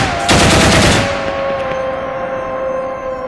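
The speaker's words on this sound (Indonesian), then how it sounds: "tiba-tiba keduanya mendengar tembakan beberapa kali." Several gunshots from a documentary sound effect, a loud rapid burst of cracks in the first second followed by a ringing tone and fading echo.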